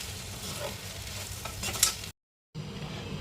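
Ivy gourd (kovakkai) poriyal stir-frying in a pan, a soft continuous sizzle with light stirring scrapes, broken by a brief silent gap.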